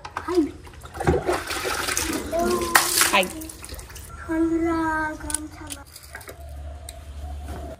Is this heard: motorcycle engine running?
no